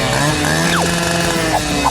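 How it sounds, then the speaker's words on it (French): A chainsaw cuts through a chocolate bar, its engine buzzing loud and steady close up, with a quick falling whine partway through and small bumps in the drone. "Je vais avoir besoin d'une vraie tronçonneuse pour couper cette barre de chocolat."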